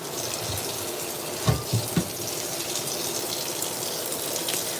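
Hot water runs steadily from a tap into a pot while dishes are washed with Dawn dish soap, a constant close gush with a few brief clunks of the pot.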